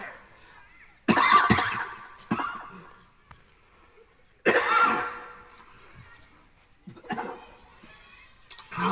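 A man coughs several times in short, separated bursts, fairly quiet and close, with near silence between the coughs.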